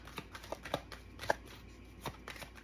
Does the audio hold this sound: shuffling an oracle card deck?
yes